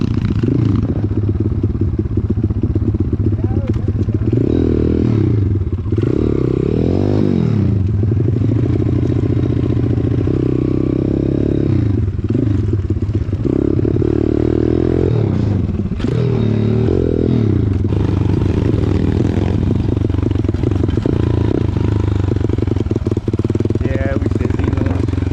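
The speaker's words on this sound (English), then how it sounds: "we're gonna take the pit bikes out and we got some jumps to hit" Pit bikes riding out on dirt jumps, small motorcycle engines buzzing and revving continuously with rising and falling throttle and some clatter, loud and close throughout, with people talking over the noise.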